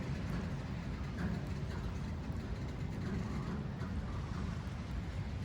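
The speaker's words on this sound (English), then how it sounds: "the train's starting to go in reverse now" A Norfolk Southern container train reverses near a rail yard, giving a steady low rumble of wagons rolling with constant loudness and no distinct horn or clanks.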